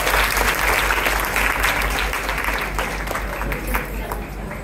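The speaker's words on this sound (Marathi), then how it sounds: "जरा जोरदार टाळ्या सगळ्या मुलींसाठी घेऊन जाऊया." Loud, dense applause from an audience at a Mangalagaur celebration in Kharghar, clapping for a group of dancing girls; sustained and close, with crowd murmur mixed in.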